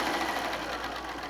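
Sewing machine stitching down a quilt seam through layered fabric, a fast, steady mechanical whir with continuous rapid needle chatter, close and loud.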